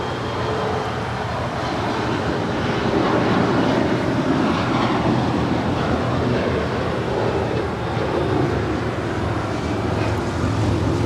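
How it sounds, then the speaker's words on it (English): A United Express CRJ 700 ER regional jet departs LAX, a loud, steady broadband jet roar that stays near and constant throughout with no voices. "This departure is United Express Flight 5794 departing to Aspen on a CRJ 700 ER"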